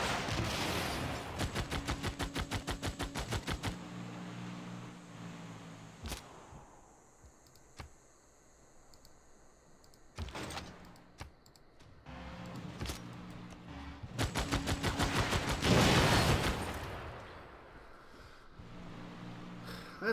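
Unit gunfire in Civilization 6 Gathering Storm: dense bursts of rapid shots at the start and again near the end, with a few sharp single cracks scattered through quieter stretches between them.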